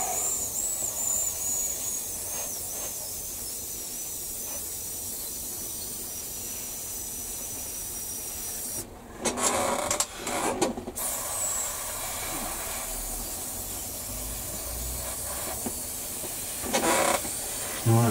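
An airbrush sprays paint onto a 1/16 scale Tiger I tank model, a steady close hiss that runs throughout, with a couple of louder bursts of spray partway through and again near the end.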